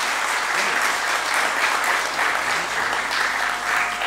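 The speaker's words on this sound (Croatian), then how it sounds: "Idemo još jednim gromoglasnim aplauzom pozdraviti" Audience applause at a sevdalinka festival in Zvornik, a dense sustained clapping from a large crowd that stays loud and even for the whole stretch.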